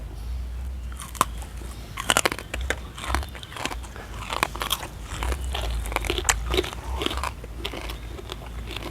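Crispy pork being bitten and chewed close up, with repeated sharp crunches and crackling bites in an uneven rhythm over soft mouth noises.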